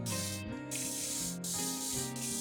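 Spray paint hisses steadily onto a part of a Walthers model railroad roundhouse, a continuous close spray broken by short pauses, over a background music bed with no talking.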